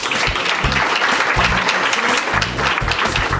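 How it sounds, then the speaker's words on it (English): A football signing-day audience in Greene County breaks into loud, sustained applause, a close, dense clatter of many hands clapping throughout with no talk over it. "So give these guys a round of applause today."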